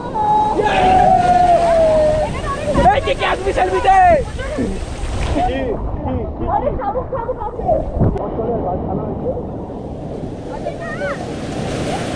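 Ocean waves surge and wash on the shore at Digha sea beach, a loud continuous roar with wind buffeting the microphone and voices and singing mixed in.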